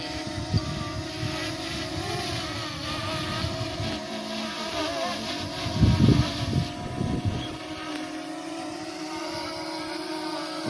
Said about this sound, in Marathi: ड्रोन फ्लाय केला आहे